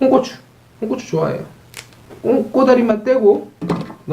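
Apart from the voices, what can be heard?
No everyday noise stands out behind the speech.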